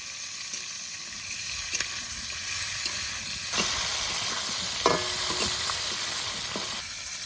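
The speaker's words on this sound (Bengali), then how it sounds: "বাম মাছটা বেশি ভাজবো না, হালকা করে ভেজে নেবো।" Baim eel fish frying lightly in hot oil in a village kitchen, a steady close sizzle and hiss that swells louder partway through, with occasional stirring clinks and spatters.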